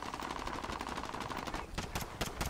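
Rapid automatic gunfire rattles in a video game, a fast burst of shots followed by a few sharper separate cracks, fairly faint overall.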